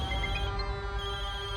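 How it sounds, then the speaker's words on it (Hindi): A phone rings with a steady, repeating electronic tone, in a drama about a family. The sound holds steady and fairly loud throughout, with no talking over it. "अभी टें टें टें टें टें टें करके बज रहा है"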